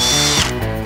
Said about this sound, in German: Ich bohre in der Mitte jetzt erstmal ein Loch mit einem kleinen Bohrer, es geht schneller.